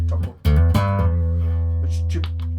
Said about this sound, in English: But that's my turbo sound.